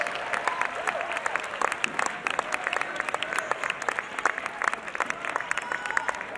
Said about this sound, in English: give a great round of applause to your professional international Latin finalists